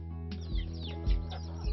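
Desi breed chickens kept by village women cluck in short, low bursts roughly every half second, close by and fairly steady, over a continuous tonal background hum with no voices.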